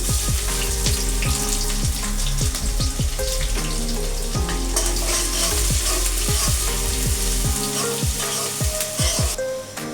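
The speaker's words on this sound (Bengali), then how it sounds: "এখন আমি দিয়ে দিব পেঁয়াজ আর মরিচ" Onion and chili hitting hot oil with garlic, sizzling loudly and steadily, with repeated stirring scrapes and clinks keeping a rhythm throughout, close up with no talking.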